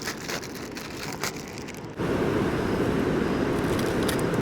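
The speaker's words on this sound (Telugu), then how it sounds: "అరే వర్షం మురిసేస్తుందబ్బా." Heavy rain pours down on a forest camp at night near a large waterfall, starting as a light patter and then swelling abruptly into a loud, steady, dense hiss that fills the rest of the clip.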